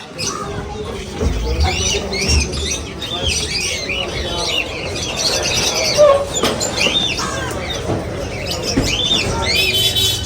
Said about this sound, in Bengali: দুই পাশে পাখি দোকান কিচির মিচির কিচির মিচির সাউন্ড খুব ভালো লাগে